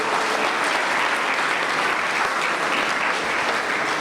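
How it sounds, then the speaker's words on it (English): A symposium audience gives a sustained round of applause for panelists, dense continuous clapping at a steady, fairly loud level throughout. "Can we give another well-deserved round of applause for our panelists?"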